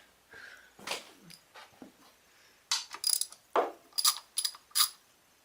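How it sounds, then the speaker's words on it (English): Wrench working on a loose bolt on a Kohler Courage engine, a series of short metallic clicks and ratcheting bursts, sparse at first then quicker, close and moderately loud with no speech. "So I get that one bolt to crack off next."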